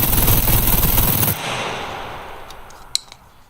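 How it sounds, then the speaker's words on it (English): Sustained rapid automatic fire from an advanced rifle in the SCUM survival game, loud and dense for over a second before cutting off, leaving a fading tail with a few faint distant clicks. "So let's shoot this thing."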